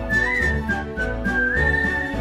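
Someone whistles a tune close up, a lilting, clear melodic line held over light background music.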